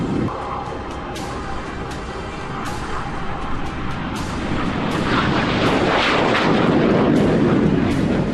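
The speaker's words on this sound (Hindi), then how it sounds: "यानी हॉक विमानों का इस्तेमाल जरूरत पड़ने पर हल्के लड़ाकू विमानों के तौर पर किया जा सकता है।" A Hawk Mk-132 jet trainer aircraft flying during a military joint exercise, a loud roaring rush that swells toward the end, with no talk.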